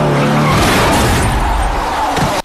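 A truck skids with loud squealing tires in a movie scene, a sustained harsh screech and engine roar up close that cuts off abruptly at the end.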